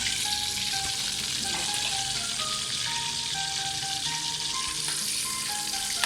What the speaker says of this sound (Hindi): गोल्डन फ्राई हो चुका है।